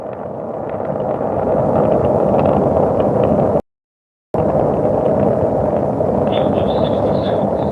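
A solid rocket motor test firing: a loud, continuous broadband roar rumbles throughout, cut by a brief dropout of silence midway before resuming at full strength.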